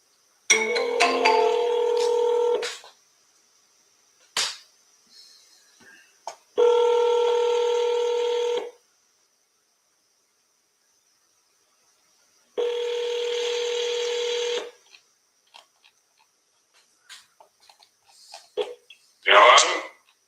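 A phone call being placed: a quick run of keypad tones, then repeated electronic ringback bursts separated by long silences, with faint sounds and a brief bit of voice near the end.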